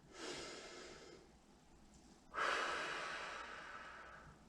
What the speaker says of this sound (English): Take a few seconds here to just breathe. Inhale. And exhale.